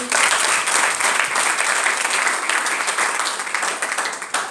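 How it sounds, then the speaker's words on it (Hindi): A seminar audience in Sirsa claps together in a sustained round of applause that is dense at first and eases slightly toward the end, with no voices on top. "जिनको विश्वास है एक बार दोबारा तालियां बजा दीजिए"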